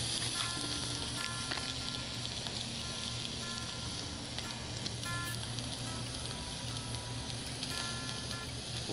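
Blackened redfish fillet sizzles steadily in a hot cast iron pan, a continuous close crackling hiss with faint pops and no talking.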